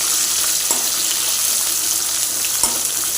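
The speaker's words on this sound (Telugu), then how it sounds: "ఇది కూడా కొంచెం రెడ్ కలర్లోకి వచ్చే వరకు వేగిద్దాము." Mung dal and onions frying in a pan for Telugu-style sambar, giving a steady sizzling hiss with a couple of soft knocks from stirring, close and continuous with no talk.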